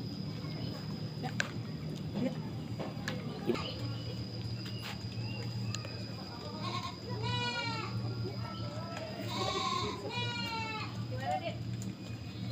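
Goats in a farm pen bleat in several short, wavering calls, the loudest toward the end, over a low background hum, with people talking nearby.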